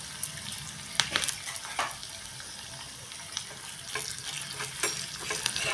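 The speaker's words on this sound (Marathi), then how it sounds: "हे थोडं आपण परतून घेऊया." Thinly sliced green and fresh red chillies sauté in a hot tempering, a steady close sizzle broken by occasional stirring clicks and scrapes of the spatula, with no voices.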